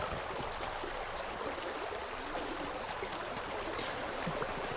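Flowing water by a water wheel in Vintage Story, a steady loud rushing stream with gurgling, continuous and close with no talk.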